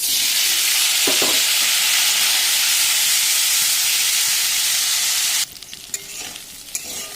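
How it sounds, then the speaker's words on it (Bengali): Cut brinjal pieces frying in a pan, a loud, rushing sizzle with an early stirring scrape, then a sudden drop to quieter crackle and occasional clinks of utensil against the pan. "এবার আমি এই কেটে রাখা বেগুনগুলো ভেজে নেব।"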